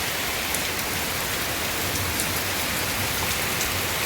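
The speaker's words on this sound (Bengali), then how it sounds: "আপনার দেখালাম আমরা বৃষ্টিটা পড়ছে কত জোরে" Heavy rain pours steadily and densely on a hot day, a continuous close hiss of drops on surfaces with no talk.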